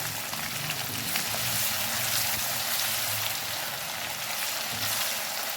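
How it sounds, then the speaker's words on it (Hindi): Freshly pounded ginger garlic paste fries in a pan for chicken nihari, giving a steady, bright sizzle that hisses evenly throughout at moderate volume with no speech. "यहाँ पे 2 टेबलस्पून भर के मैं डाल दूँगी अदरक लहसुन का फ्रेश कुटा हुआ"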